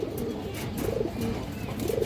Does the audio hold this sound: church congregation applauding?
no